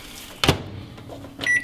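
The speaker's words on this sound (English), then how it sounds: "Pop it in the microwave" A microwave oven is loaded with a plastic-wrapped, fork-pierced sweet potato: a door thump, a few soft clunks, then short electronic beeps from the keypad, close by.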